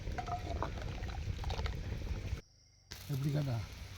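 A pot of crab soup bubbles quietly and steadily at close range, briefly cutting out for a moment before the simmering resumes, with a voice murmuring near the end.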